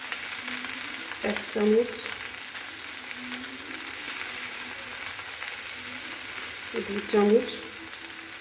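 Potato curry with peas sizzles steadily in a pan as spoonfuls of tomato ketchup are added, a continuous frying hiss with a couple of soft stirring knocks; someone speaks briefly over it.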